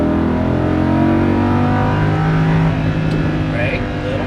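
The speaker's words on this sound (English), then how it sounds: "Now full throttle to the orange cone on the left." A Lamborghini Huracan LP610-4 on a track at full throttle, its engine roaring loud and close from inside the car in a strong, steady drone with layered harmonics, a voice speaking over it.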